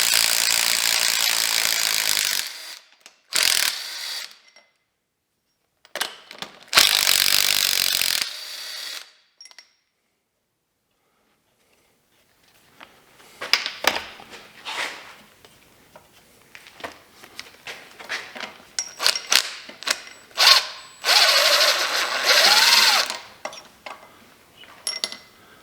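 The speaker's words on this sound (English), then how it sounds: "So they're all loose now, and I'll just run them out with the impact." Impact wrench running loosened bolts out of a GM L83 engine, heard in several loud close bursts of rapid rattling hammering separated by silences, followed by shorter choppy bursts and clinks of tools and parts.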